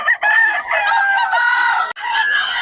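Close, loud rooster crowing at a cockfighting venue in Bocaue, with a long harmonic crow followed by another starting crow, alone without talk.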